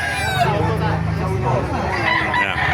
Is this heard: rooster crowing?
yes